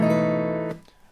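An acoustic guitar chord strummed once across all strings rings briefly, then is cut short by a soft handling noise as it stops.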